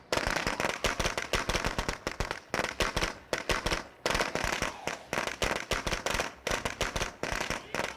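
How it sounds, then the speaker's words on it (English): Fireworks thrown at a back door in the zombie survival game State of Decay 2: Heartland pop in rapid, irregular strings of sharp cracking bangs, loud and close, continuing in bursts without pause. "I'm going to throw some fireworks at the back door."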